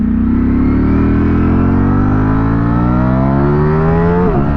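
A 2023 Ducati Streetfighter V4 SP2 motorcycle engine accelerating hard and close, its rising howl climbing steadily in pitch for several seconds before a brief dip at a gear change, loud and alone.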